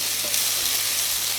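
Mustard seeds spluttering in hot oil while cooking a potato fry, a dense continuous crackling sizzle close by with no talk.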